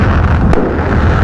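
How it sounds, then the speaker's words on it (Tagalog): Fireworks burst at a free display along a Pangasinan motorcycle endurance ride, heard as a sharp single bang over a loud, steady rumble of wind and engine noise. "Fireworks is free."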